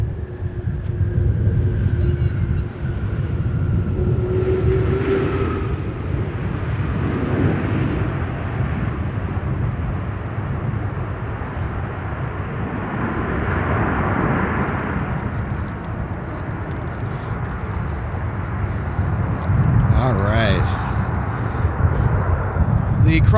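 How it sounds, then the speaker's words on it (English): A heavy Airbus airliner touching down on the runway at Minneapolis–St. Paul Airport, with a loud, broad roar of engines and rumble that lingers, while voices talk over it. "traffic touching down is a heavy Airbus"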